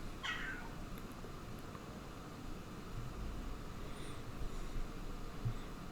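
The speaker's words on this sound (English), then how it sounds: "You might hear Miss Freya meowing in the background here." A house cat meows once, briefly and fairly faintly, near the start, then a steady low background hum carries on with no further calls.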